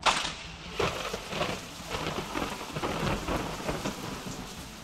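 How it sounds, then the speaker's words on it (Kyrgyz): Heavy rain and hail pour down while thunder rumbles and cracks, a sharp clap opening a stormy, continuous downpour with no talking. "күн күркүрөп мөндүр жаап кирет"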